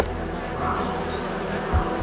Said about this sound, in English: Begin by gently smoking the hive to keep the bees docile.